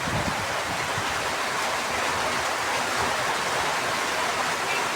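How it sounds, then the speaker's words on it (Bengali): Heavy rain driven by wind pours down steadily as a dense, even roar of hiss and rush, with no breaks across the whole stretch. "রাস্তায় কোনো গাড়ি ঘোড়া চলতেছে না বৃষ্টির কারণে প্রচণ্ড বৃষ্টি বাতাস"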